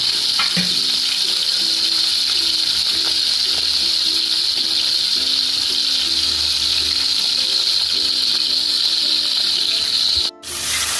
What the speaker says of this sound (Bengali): পমফ্রেট মাছগুলো ম্যারিনেট করে রেখেছিলাম সেগুলো দিয়ে দিলাম এগুলো ভালো করে ফ্রাই হবে